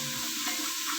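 Food sizzles in a hot pan while egg kabsa is cooked, a brief, even frying hiss that holds steady for a second with a faint low hum underneath and no voices.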